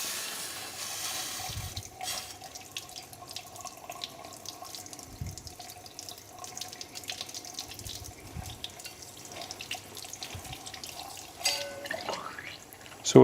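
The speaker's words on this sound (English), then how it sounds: "we're just running this under a tap just to cool it down so we can handle it" Tap water runs over a hot soldered part to cool it, a steady faint stream and splash that stays low and continuous, with a few soft knocks and no voices.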